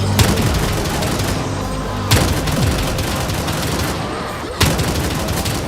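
Three widely spaced, loud gunshots from a slow-firing weapon in Black Ops 3, each a sharp blast with a ringing tail over constant game background noise.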